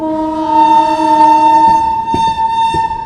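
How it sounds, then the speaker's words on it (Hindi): The Bhopal Shatabdi Express passes at a railway crossing. A loud, sustained horn blares close by over rumbling wheels, then fades into rhythmic clatter near the end. "यहाँ देखिए हमारी क्रॉसिंग हो रही है, इंडिया की सबसे फास्टेस्ट शताब्दी एक्सप्रेस है"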